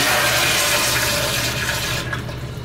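A toilet flushes in a public restroom at a pet store, a loud close rushing of water that fades toward the end.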